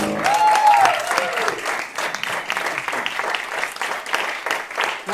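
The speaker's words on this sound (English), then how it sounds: "Give them a round of applause" Audience applause for performers at the end of a vocal jazz masterclass, a steady moderate clapping after a brief sung or spoken tone at the start, continuing evenly through the clip.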